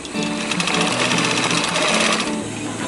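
Sewing machine running steadily while stitching a MOLLE panel, a loud, continuous rapid needle rattle through nearly three seconds, close up and alone with no talk.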